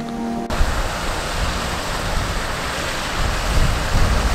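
Water pours steadily through a single gate, a continuous broadband rush like surf or a small waterfall that holds constant and close throughout, with no voices.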